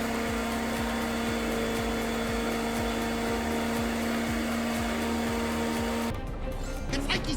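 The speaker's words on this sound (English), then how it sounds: "Throw everything in the blender" A kitchen blender whirs loudly and steadily, blitzing vegan ice cream ingredients with a rhythmic chop, then cuts off abruptly near the end.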